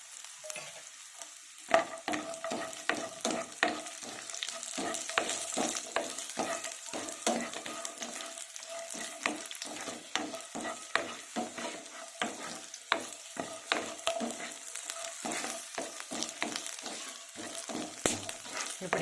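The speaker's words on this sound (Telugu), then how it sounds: "ఇవి కొద్దిగా ఫ్రై అయినాక జీడిపప్పు కూడా వేసుకున్నాము" Cashews frying in a pan for paneer masala, a close, steady sizzle broken by frequent spatula stirs and crackles.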